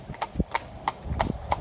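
A harnessed horse trots, with crisp, evenly spaced hoof clip-clops sounding close and fairly quiet over a short stretch.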